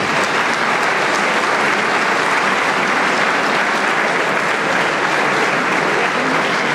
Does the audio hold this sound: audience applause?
yes